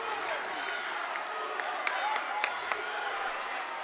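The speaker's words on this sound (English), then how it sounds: "The crowd is loud." A loud high school boys basketball crowd cheers and applauds in a gym, a steady roar of voices with scattered claps and a few sharper shouts.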